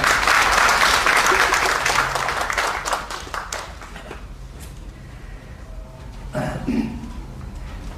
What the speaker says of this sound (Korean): 박수로 맞이해 주시면 좋겠습니다